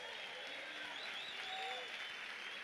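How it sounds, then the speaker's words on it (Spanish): A church congregation applauds during a service, a faint, dense wash of clapping with some voices and whistle-like cries mixed in. "Denle un aplauso al Rey bendito"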